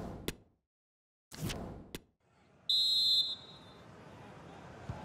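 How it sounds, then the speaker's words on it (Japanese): A single sharp referee whistle in the video game FIFA 23 sounds at Lusail Stadium during a World Cup final, cutting through crowd noise after a few soft thumps and brief quiet. "ルサイルスタジアムにホイッスルが響き渡ります。"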